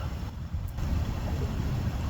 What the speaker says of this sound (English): Can you hear that water running by the tent?